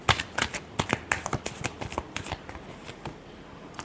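Tarot cards being shuffled by hand in quick, crisp riffling bursts, close and fairly loud, with a steady rhythm over a quiet background and no talking.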